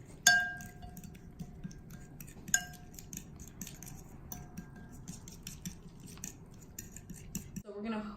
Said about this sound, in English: We're just gonna kind of mix it up together.